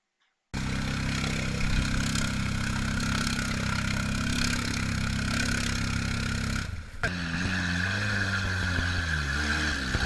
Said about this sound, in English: here's a four-wheeler attempting that same spot